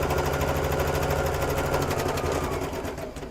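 A sewing machine stitching a quilt border, a fast even mechanical whir of the needle close up that slows and fades near the end, with no talking.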